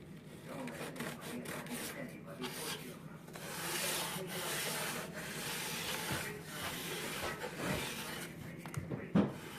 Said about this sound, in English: We're going to lightly sand that off of there